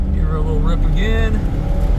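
An LS V8 swapped into a cheap car gets a brief throttle blip while driving, the revs rising and falling once, heard close amid road noise and a voice talking over it.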